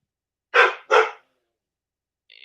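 A dog barks twice in quick succession, loud and close, followed by silence and a faint higher sound near the end.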